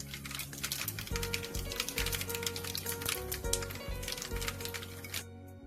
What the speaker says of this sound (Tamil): கொஞ்சம் கடுகு போட்டுருவோம்